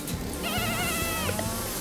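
A sheep bleats in the farming video game Lumberhill, one clear, wavering bleat of about a second, up close against a busy, constant background of game sound.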